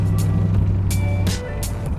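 An old car's engine while driving, its loose-feeling body rattling. A loud, steady low rumble carries throughout, with bursts of broadband noise and faint tonal whines layered on top.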